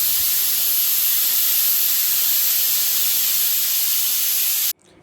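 A rice pressure cooker vents steam in a loud, continuous high hiss that holds steady for several seconds, then cuts off abruptly near the end.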